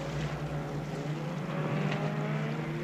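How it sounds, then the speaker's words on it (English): A Zodiac inflatable boat's outboard engine drones steadily at sea near whales, a loud continuous motor hum with churning water noise and no pauses. "The noise of the Zodiac frightens the baby."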